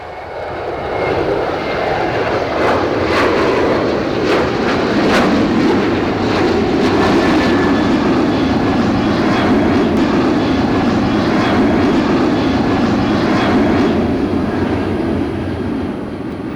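An airplane on low approach at about 4,000 feet, roughly ten nautical miles out, gives a loud, steady broadband engine roar that holds evenly throughout, with no voices over it.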